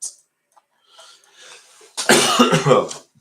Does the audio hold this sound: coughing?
yes